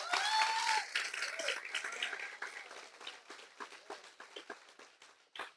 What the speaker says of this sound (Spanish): Un aplauso a estos amados pastores